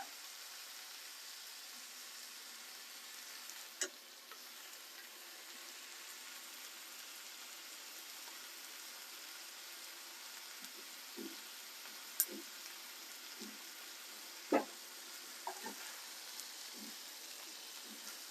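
A stuffed turkey browns in a hot pan with a steady, faint sizzle and occasional small pops and crackles.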